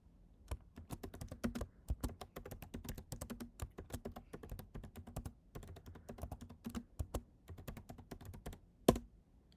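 Rapid keystrokes on a computer keyboard, steady irregular clicking close to the listener with a few brief pauses and one sharper thump near the end.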